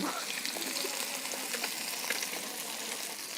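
Rohu fish pieces coated in turmeric sizzle steadily in hot oil, a dense continuous crackle and hiss held close and even throughout, with no voices.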